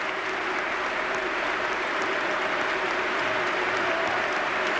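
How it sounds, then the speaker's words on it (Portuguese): Stadium crowd at the 2003 Barcelona versus Porto football match applauding as players are substituted, a dense, even wash of distant clapping and crowd noise held steady throughout. "Muitos aplausos para secretário e também para Derlei."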